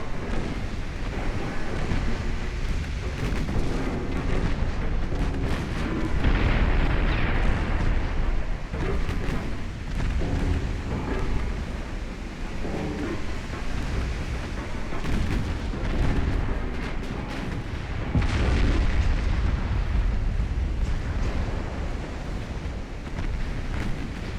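Large naval guns firing armor-piercing shells in the naval warfare game Ultimate Admiral: Dreadnoughts, with repeated heavy booms over a constant roaring, wind-like rumble that fills the whole stretch with no speech.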